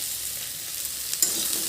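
Dry-fried dish sizzling in a pan on the stove, a steady soft crackle with a small stir or clink partway through and no talk.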